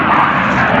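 Jet aircraft at an airbase produce a loud, steady broadband engine roar, close and continuous throughout the brief moment.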